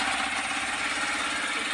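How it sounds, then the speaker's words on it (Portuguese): A motor drives the mechanical paddle of a cassava flour-making machine on a rural homestead, giving a steady, even mechanical hum and whir with no pauses or voices. "O papai já funcionou o motor e a Fabiane já começou a remar"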